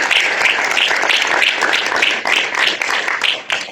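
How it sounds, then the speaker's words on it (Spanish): A small audience at a round-table talk on the railway of Zamora gives a steady welcome round of applause for two guests, dense clapping lasting throughout at close range with no talking over it. "Para los dos invitados, el aplauso de bienvenida."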